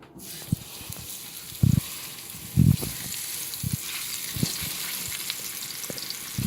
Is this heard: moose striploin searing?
yes